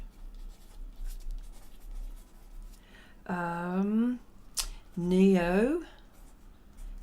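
Pen writing notes on paper during a Caran d'Ache burnt sienna art-medium test, soft faint scratching running under two stretches of a person talking nearby.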